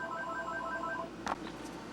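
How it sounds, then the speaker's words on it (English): A telephone rings with a short electronic trill that repeats for about a second, clear and close, followed by quiet room noise and a couple of faint clicks. "phone's already ringing off the hook"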